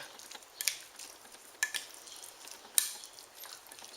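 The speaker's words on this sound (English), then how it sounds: "I'm going to take a spoon and I'm just going to mix everything together" A spoon mixes guacamole ingredients in a bowl, making faint soft scrapes and three light clinks against the side over a quiet background.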